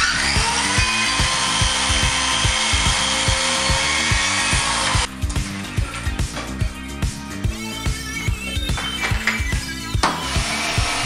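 Power saw cutting material to measured size during load-bearing wall renovation work, a loud continuous whine for about five seconds, then rattling, clattering tool noise and scattered knocks.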